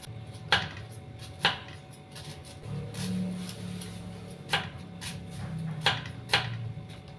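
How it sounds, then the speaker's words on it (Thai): Lemongrass being chopped with a knife in a home kitchen for a canned fish salad: about six sharp, spaced chopping knocks over a low background hum. "นี่นะคะแม่น้องดาก็จะหั่นตะไคร้นะคะ"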